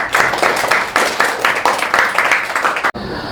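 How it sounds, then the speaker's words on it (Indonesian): Applause from a classroom of students during a lesson on generative AI: dense, steady clapping from many hands fills the room, cutting off sharply near the end. "tepuk tangan untuk Farid."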